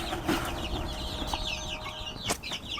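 Chicks in a wired-in backyard pen cluck and peep in short, scattered calls, fairly quiet, with a soft flutter or two and no talking.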